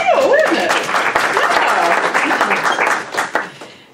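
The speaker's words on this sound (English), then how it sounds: "Yeah, clap." Loud audience applause at a real estate association update meeting, a dense burst of clapping that fades out toward the end, with a voice briefly audible near the start.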